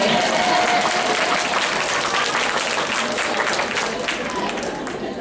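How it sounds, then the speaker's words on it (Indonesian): Loud, dense applause from an audience at an academic lecture event, steady clapping right from the start that eases slightly toward the end, with a faint voice underneath. "coba dites tepuk tangannya"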